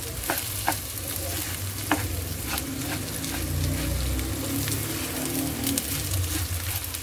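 Rice stirred and frying in a pan for chicken biryani, a steady sizzle with scraping stir strokes and occasional sharp clinks of a utensil against the pan, close and continuous.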